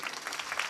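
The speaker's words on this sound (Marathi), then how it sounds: "टाळ्या वाजवा ना जोरदार" Brief burst of steady audience clapping at a devotional kirtan performance, soft and somewhat distant, a dense patter of many hands.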